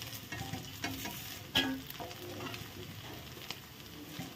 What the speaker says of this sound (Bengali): দেখো এখন আস্তে আস্তে ভেজে নেব